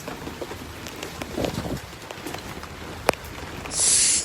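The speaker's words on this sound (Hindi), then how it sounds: "इतनी तेज़ तूफ़ानी बारिश हो रही है, इतनी तेज़, मैं आपको क्या बताऊं कसम से, बहुत तेज़ बारिश हो रही है।" Heavy stormy rain pours down as a steady broadband hiss with scattered patters and a sharp crack, growing louder and denser at the end, with no speech heard.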